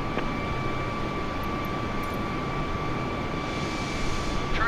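Steady broadband roar of Airbus A320 airliner jet engines in Microsoft Flight Simulator 2020, constant and close, with a faint thin whine running through it and no talk.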